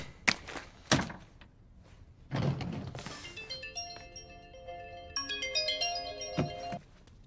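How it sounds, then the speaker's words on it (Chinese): A mobile phone plays a melodic ringtone for an incoming call, heard indoors after a few soft thumps and a door-like knock. The tune rings at moderate volume in repeating bright notes. "估计是老 K 家里人来电话了"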